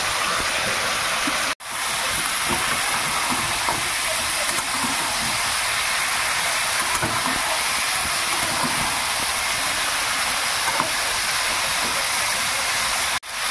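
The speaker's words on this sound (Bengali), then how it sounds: "এবার আমি কুমড়ো বেগুনটা দিয়ে দেবো। একটু তেলের মধ্যে নেড়ে নিলে টেস্টটা ভালো হয়।" Pumpkin and eggplant fry in hot oil with tomatoes, making a steady, loud hissing sizzle that runs almost unbroken, with two brief cuts to silence.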